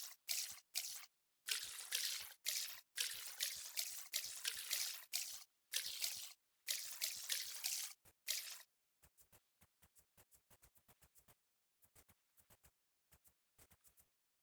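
In the Vintage Story game, a watering can pours over crops in repeated short bursts of trickling, splashing water, followed by a run of quick, quiet droplet ticks after the pouring stops.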